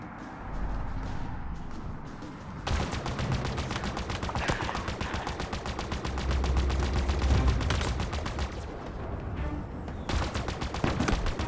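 Sniper fire and other gunfire in the Halo Infinite campaign, loud dense bursts of shots and rapid fire running through most of the stretch with brief lulls between volleys.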